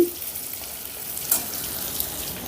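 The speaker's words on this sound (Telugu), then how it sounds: "ఇప్పుడు ఈ దొండకాయకు సరిపడేంత ఉప్పు వేసుకుందాం ఒకసారి ఇలాగ కలిపేసుకొని" Ivy gourd fry with salt is stirred in a frying pan. A soft, steady sizzle runs throughout, with an occasional light scrape of the spatula. There is no talk.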